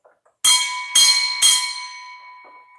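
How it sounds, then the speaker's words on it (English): A meditation bell is struck three times in steady succession, each ring bright and close, with the overlapping tones lingering and fading into a long shimmering decay. "This sounds like the bell to meditate in the morning."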